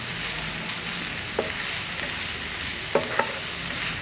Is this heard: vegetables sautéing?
yes